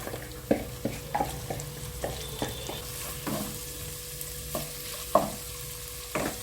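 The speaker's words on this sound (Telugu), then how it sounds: "అల్లం వెల్లుల్లి పేస్టు మరియు పసుపు లైట్గా కొంచెం వేగగానే కట్ చేసి పెట్టుకున్న చిక్కుడుకాయలు వేయండి" Cut broad beans tumble into a pan with ginger-garlic paste and turmeric, raising a continuous sizzle punctuated by regular sharp spoon knocks and scrapes against the pan, close and fairly loud.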